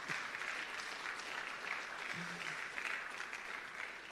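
Quiet, distant applause from an audience at a ministry rebranding and quality recognition ceremony, steady and even with a brief low murmur partway through.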